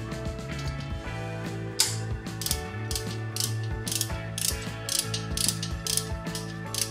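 Small inch-pound torque ratchet clicking steadily as it tightens bolts during a Twin Cam engine rocker arm and pushrod install, a close, continuous run of quick pawl clicks with occasional louder ticks and no talking.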